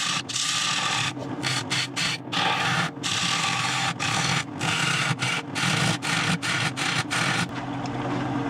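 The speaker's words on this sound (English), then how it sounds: "Just let the bowl gouge do the work." A bowl gouge cuts into a wood bowl spinning on a lathe, making a continuous loud rasping scrape broken by frequent short gaps as the tool is lifted and set back against the wood.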